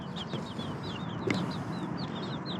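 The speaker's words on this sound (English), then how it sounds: "there are actual chickens back here." Chickens at an old coop in Fort Tejon, with growing chicks nearby, make repeated short clucks and chirpy calls. A brief louder squawk comes partway through over steady outdoor background noise.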